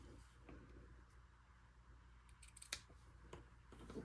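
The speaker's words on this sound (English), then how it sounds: "With your ribbon scissors, make sure you have scissors just for your ribbon." Ribbon scissors snip through ribbon at a card-making table, a few faint, sharp clicks and one crisp cut close by in an otherwise quiet room.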